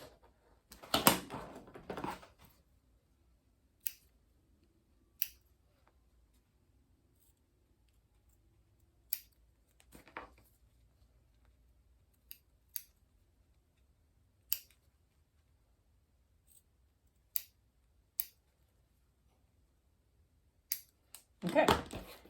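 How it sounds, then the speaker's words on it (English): A rotary blade slices along the long and short edges of a fabric overlay for a tote bag, giving brief scratchy rasps at the start, middle and end, with sparse sharp clicks scattered in between in an otherwise quiet room. "I just do my 2 long edges with my rotary blade, and then I cut the short edges."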